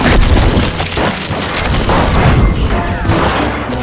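Chaotic video game shootout with booming shots and crashes under a dense, loud mix, while voices talk over the noise throughout.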